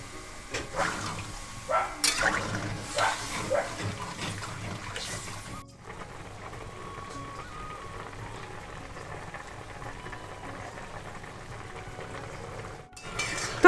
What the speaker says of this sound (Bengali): একটু নাড়াচাড়া করে জলটা আমি দিয়ে দিলাম